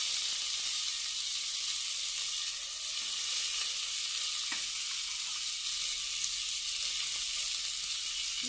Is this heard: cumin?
yes